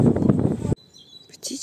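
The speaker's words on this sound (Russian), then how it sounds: "Птички распелись." Birds sing in a Crimean sanatorium park on an overcast, warm day: a thin high chirp rings out faintly after a burst of loud nearby noise, followed by a few brief high twitters.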